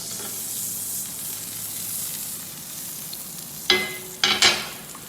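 Butter and oil heat in a pan for pancakes, giving a faint, steady low hiss that builds into a few sharper sizzling bursts near the end, close by and without talk.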